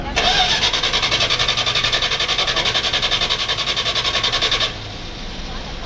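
A 1973 Dodge Challenger's starter cranks in a fast, steady rhythmic churn for several seconds before cutting off, close and fairly loud, with voices in the background.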